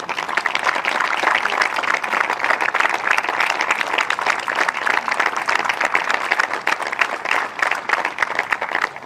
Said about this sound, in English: Por favor, gran aplauso para campeones y finalistas, for winners and runner-up.